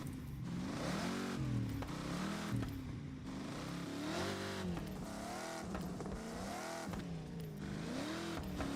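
Loud Forza Horizon car engine accelerates through repeated rising revs and gear shifts, close and continuous, with short drops between pulls and a hint of tire squeal.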